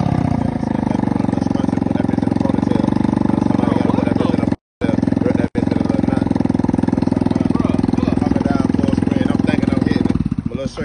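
A moped engine with its throttle cable hooked to a key runs loud and close, holding a steady buzzing drone for about ten seconds with one brief dropout, while people talk over it.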